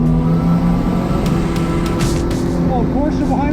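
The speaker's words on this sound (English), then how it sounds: "I think we have opened up an exhaust leak" A Toyota MR2 with an exhaust leak runs hard on a racetrack, its loud, steady engine drone and exhaust rasp filling the cabin with a rising pitch toward the end.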